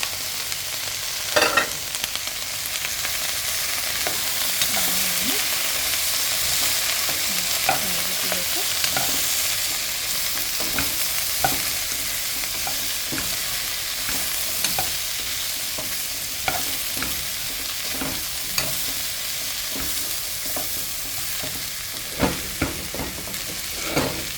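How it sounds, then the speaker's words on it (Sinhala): Chopped green chilies fry in a pan, a loud steady sizzle running throughout with frequent scraping stirs and spoon clinks, close and continuous without any talking. "ඊට පස්සේ මම කපාගෙන තියාගත්ත අමු මිරිස් ටිකක් දානවා"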